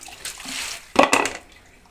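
Water is poured over freshly washed moringa drumsticks in a home kitchen: a short, close splash and trickle lasting about half a second, with a softer wash of water before it.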